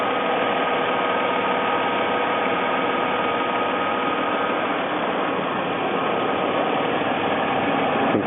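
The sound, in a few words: 2006 Mercedes-Benz C280 engine idling while warming up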